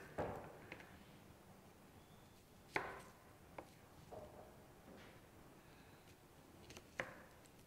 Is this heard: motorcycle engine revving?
no